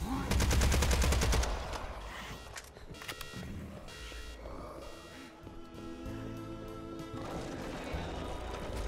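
Grenade blast and rapid gunfire in the demon-shooting game Hellbreach Vegas: a loud burst of stuttering automatic fire opens, then scattered shots, crashes and chaotic combat noise continue at lower level.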